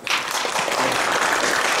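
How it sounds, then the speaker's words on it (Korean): Faculty at a Choonhae College of Health Sciences keynote lecture applaud in agreement, a brief, dense round of clapping from many hands at close, steady volume. "동의하시면 박수 주시기 바랍니다."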